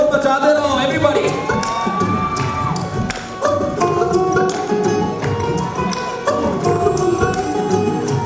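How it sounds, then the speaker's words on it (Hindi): Guests at a sangeet wedding celebration cheer, whoop and shout as a continuous loud crowd roar, with music playing underneath throughout. "थोड़ा शोर मचाते रहो everybody।"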